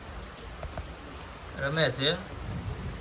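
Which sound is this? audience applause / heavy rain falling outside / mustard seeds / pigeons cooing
heavy rain falling outside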